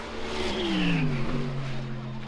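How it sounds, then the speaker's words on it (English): A Mercedes race car's V8 engine rumbles on track, a steady loud drone with rising pitch as it accelerates, close by and sustained throughout. "the longer that we get to hear that rumbling V8 make laps around the track"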